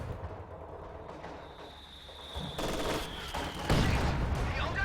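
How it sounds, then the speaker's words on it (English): Mortar shell explosions in a wartime strategy video game, a series of booming blasts and crackling impacts that grow louder toward the end, with a faint whistling tone before the final heavy burst. "flattened by that final mortar shell"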